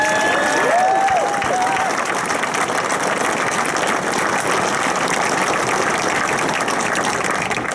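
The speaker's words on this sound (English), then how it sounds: "So can we just give them another round of applause?" A crowd applauds at a Cedar Point roller coaster opening ceremony on media day, a steady wash of clapping and cheering with a whistle-like tone early on and an engine-like rumble beneath.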